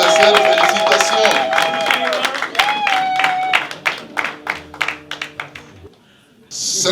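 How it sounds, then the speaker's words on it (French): An audience at a Belgian investiture ceremony in a hall claps in a loud burst of applause that thins to scattered claps and fades out, with music sounding alongside. "J'appelle ici Madame Laetitia Mujinga sous vos acclamations."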